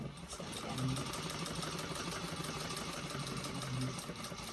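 A sewing machine runs steadily while top stitching a bag, a faint continuous motor hum and needle chatter with no pauses or talk.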